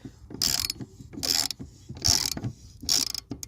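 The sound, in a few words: ratchet tightening bolt on lawnmower blade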